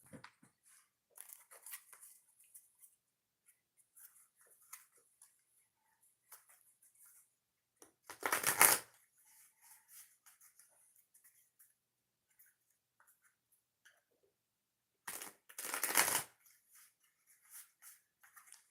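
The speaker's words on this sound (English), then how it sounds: "Now we're going to shuffle the deck before we go on to the 5th oracle reading." Two short bursts of a deck of oracle cards being shuffled during a live reading, each riffle lasting about a second and well apart, with faint handling clicks and rustles in between and no voices.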